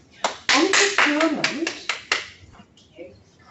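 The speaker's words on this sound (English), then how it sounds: "thank you for the clap" One person claps about eight times in a loose, uneven rhythm during a local board business meeting, the sharp claps close and loud over a voice talking beneath them.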